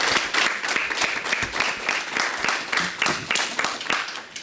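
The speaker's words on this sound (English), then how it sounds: "A round of applause for the panel," A conference audience applauds a panel at an academic indaba, steady dense clapping throughout, fairly loud and close with no speech over it.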